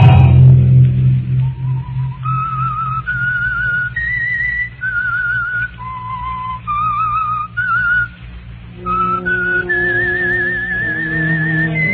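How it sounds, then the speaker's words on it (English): Theme tune of the old-time radio drama The Whistler: a lone whistler carries a wavering melody, held notes sliding between pitches, over a soft orchestral backing that swells near the start and returns toward the end. "Each episode began with the sound of footsteps and a person whistling."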